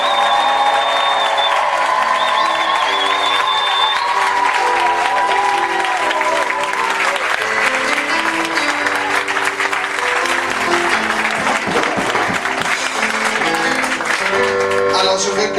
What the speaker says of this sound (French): Maintenant, acclame pour le Seigneur Jésus-Christ.